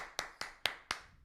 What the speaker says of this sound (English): who else is clapping?